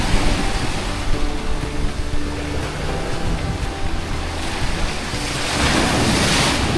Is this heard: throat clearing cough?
no